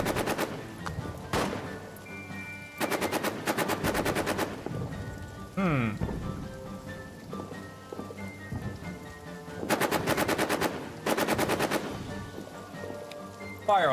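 Bursts of machine gun fire in the trench warfare game All Quiet in the Trenches come in several long rapid volleys between quieter stretches, loud and close, with background battle noise and no speech.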